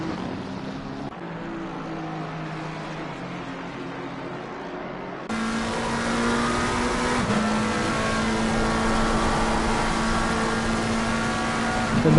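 Race car engines in a sim racing game at the Kyalami circuit hold a steady high drone, joined by a second car whose louder, sharper note cuts in, with no commentary over it.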